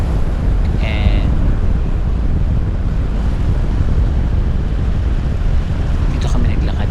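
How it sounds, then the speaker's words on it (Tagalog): Strong wind on Mt. Calib-ungan buffets the microphone in a constant loud roar, with faint whistling sounds in the background. "sobrang lakas ng hangin"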